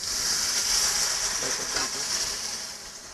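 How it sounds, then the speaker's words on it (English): Water pours into a pot of lamb curry, giving a steady broad hiss and sizzle that swells briefly and then eases off, loud and close. "at this point we're going to be putting in some water"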